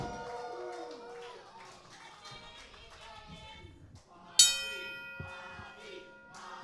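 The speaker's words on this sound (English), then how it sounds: "The bell has sounded." A single bright wrestling ring bell clang rings out sharply and decays at a wrestling match, cutting through steady crowd noise and an announcer talking underneath.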